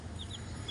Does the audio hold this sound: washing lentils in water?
no